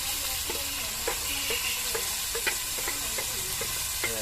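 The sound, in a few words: chopped tomato and onion frying in hot coconut oil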